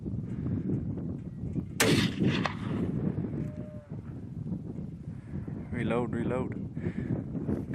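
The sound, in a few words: rifle gunshot while hunting mule deer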